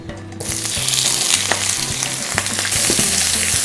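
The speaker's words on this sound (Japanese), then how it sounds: "鴨を焼いたフライパンですね。 でこれネギね、温まってきたらネギ入れます。" Leeks dropped into a hot pan with duck fat burst into a loud, bright sizzle that starts suddenly and stays dense and crackling, very close, with a faint low hum underneath and no talk.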